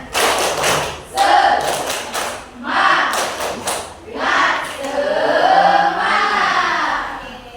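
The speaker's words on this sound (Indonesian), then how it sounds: "Kita tepuk semangat dulu." A school class performs the rhythmic 'tepuk semangat' spirit clap, with loud patterned bursts of group clapping, short pauses between phrases, and children chanting along.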